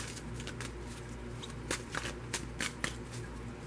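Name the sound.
shuffling a tarot card deck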